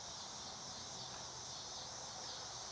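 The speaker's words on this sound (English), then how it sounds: "I think those cicadas are putting me in a trance." Cicadas drone in a steady, unbroken high buzz that fills a grassy outdoor setting, holding constant and fairly faint throughout with no voices over it.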